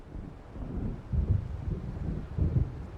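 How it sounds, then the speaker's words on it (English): Low, rumbling thunder swells twice over steady gusting wind as a storm approaches in the Alan Wake video game, with a dark, muffled, moderately loud outdoor ambience and no speech. "It seems there's a storm coming."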